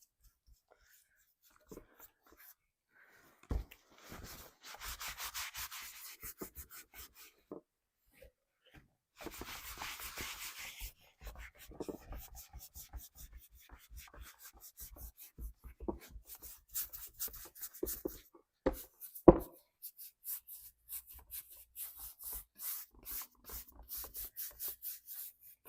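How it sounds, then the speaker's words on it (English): Antiquing wax being rubbed by hand over thrifted home decor, a soft intermittent scrubbing and rasping with scattered taps and brief pauses, fairly quiet and close, with no talking. "I'm going to rub off the excess."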